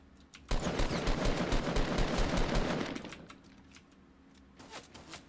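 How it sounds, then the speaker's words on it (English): Rapid automatic gunfire in the Fortnite battle royale video game, a dense burst of rattling shots for about two and a half seconds, then a quieter tail with a few scattered distant shots. "Someone else shooting at them"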